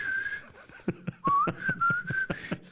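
A person whistles a wavering tune with a dry mouth, the thin tone breaking and sliding in pitch between short sharp clicks and breathy puffs, close and fairly loud.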